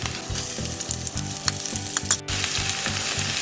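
Onions fry in a pan for aloo 65, a constant loud sizzle with rhythmic stirring knocks and a brief clatter near the end, no speech.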